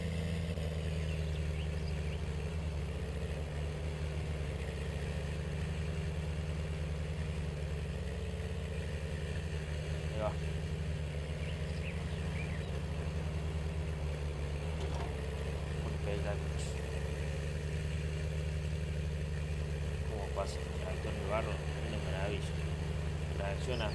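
A tractor engine in Farming Simulator 19 idles and hums in a low, steady drone, with faint clicks and tonal blips over it and a voice talking at times in the background.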